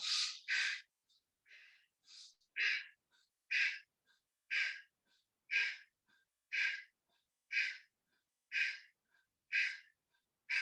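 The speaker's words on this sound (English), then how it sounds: "Make sure you're breathing in and out." Deep yoga breathing in and out, with strong, airy inhales and exhales repeating in a steady rhythm about once per second, close and clear with no talking.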